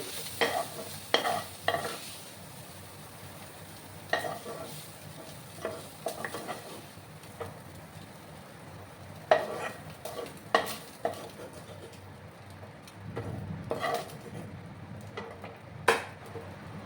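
Small prawns fry in a pan and are scooped out. Irregular scrapes and clinks of a spatula break over a soft, continuous sizzle, close up, with quiet gaps between strokes and no talking.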